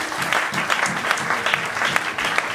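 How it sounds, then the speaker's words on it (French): A church congregation claps at a prayer sermon, a dense, continuous round of applause from the crowd, loud and close throughout. "Clap for yourself."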